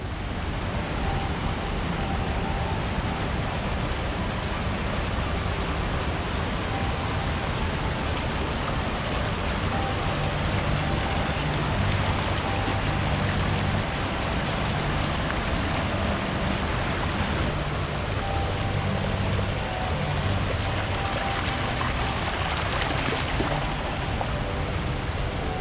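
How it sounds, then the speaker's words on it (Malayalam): Thoovanam waterfall inside the forest of Idukki district pours in a steady, dense roar of rushing water, continuous and fairly loud throughout with no voices. "ഇതാണ് ഇടുക്കി ജില്ലയിലെ കാടിനകത്തുള്ള തൂവാനം വെള്ളച്ചാട്ടം."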